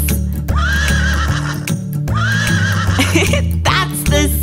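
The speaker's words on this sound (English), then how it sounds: "That's the sound a horsey makes. Neigh is what they say." Horse neighing twice in a children's animal-sound song, loud whinnies with a falling pitched cry, set over steady music with a bass beat and a brief clip-clop at the end.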